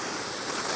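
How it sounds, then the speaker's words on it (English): Steady hiss of water spraying onto a car during a rinse, loud and close, a brief continuous wash with no talking. "Let me go ahead and rinse this off."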